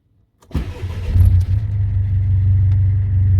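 A Mercedes W203 C-Class with the 2.2 CDI diesel cranks and fires after a quiet start, then settles into a steady, rumbling low idle close by, with no talking.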